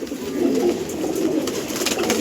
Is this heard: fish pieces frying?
no